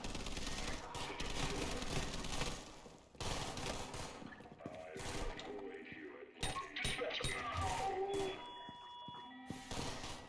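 Dense, rapid gunfire from The Division 2 during a zombie shooting section, with bursts of automatic fire and impacts running nearly continuously over game sounds and occasional talk.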